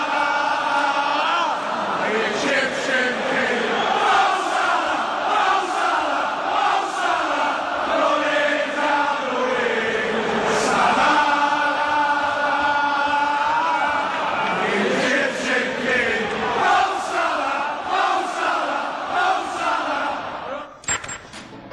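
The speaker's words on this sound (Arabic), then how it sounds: "الاغاني اللي بيغنوها لمحمد صلاح في ملعب الانفيلد واغنيته الشهيره مو صلاح" English football fans at Anfield sing a chant for Mohamed Salah, a loud crowd voicing a rhythmic, sustained song together with swelling phrases throughout.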